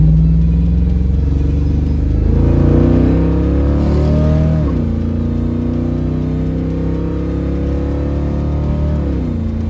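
A 1978 Camaro V8 idles with a deep, loud rumble close by, then revs up in a couple of rising pulls before settling back to a throaty idle, with no talk over it.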